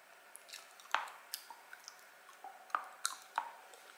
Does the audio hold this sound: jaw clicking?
yes